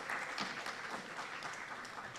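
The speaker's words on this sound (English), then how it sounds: "Let's welcome her with a round of applause." Brief applause from an audience at a youth policy dialogue as a panelist is welcomed, a moderately faint, steady patter of clapping.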